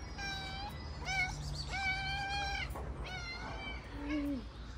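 A stray cat meows repeatedly and up close, several drawn-out rising and falling cries in a row, with no talking over them.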